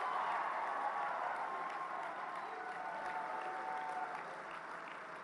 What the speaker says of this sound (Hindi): एक बार जोरदार तालियां माननीय प्रधानमंत्री जी